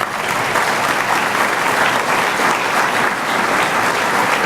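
Loud, dense applause from the audience at a county firefighter graduation ceremony, sustained and even from start to finish with no speech over it.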